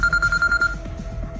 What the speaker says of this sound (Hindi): शिवाय के फोन पर किसी का कॉल आया